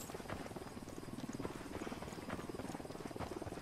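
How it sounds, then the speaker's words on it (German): A drone flying in the Ghost Recon video game, a continuous close buzzing rotor whir with a fast fluttering pulse, steady for a few seconds without talk. "Die scheiß Drohne funktioniert nicht, sie wird gestört."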